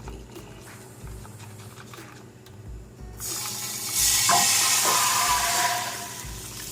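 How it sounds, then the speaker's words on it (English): Beef gravy heats in a saucepan on a stovetop, starting as a low hum with faint clatter, then swelling into a loud, steady sizzling hiss that slowly eases toward the end. "let's go ahead and hit the stove top with this gravy"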